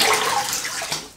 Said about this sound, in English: let me rinse with some cold water and then we'll come back for the third pass